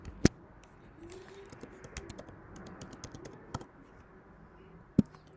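Keys tapped on a computer keyboard while a username is entered on a registration screen, a steady run of light clicks with a few sharper, louder strikes, close and alone without talk.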